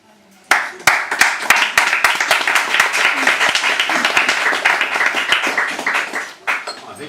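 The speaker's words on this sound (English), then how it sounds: "More applause to Kate." An audience applauds after a poetry reading, sharp bursts of clapping that build into steady, even applause and then taper off.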